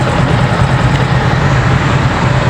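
Steady motorcycle engine and exhaust drone while riding on a wet road on the way from Tacurong to Gensan, loud and continuous throughout with a low rumbling hum and no talk.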